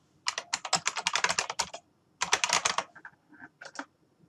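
Rapid clicking of keys as a password is typed on a computer keyboard, two quick bursts of keystrokes separated by a short pause, then a few scattered taps, close and clear with no talking.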